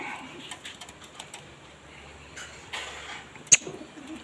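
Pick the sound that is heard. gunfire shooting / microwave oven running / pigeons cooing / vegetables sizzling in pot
pigeons cooing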